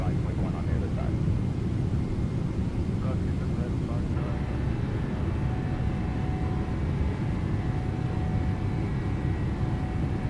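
A Boeing 777 in the X-Plane 12 flight simulator produces a steady, broad jet engine roar with a low rumble and a faint whine, constant and even throughout and heard from inside the aircraft.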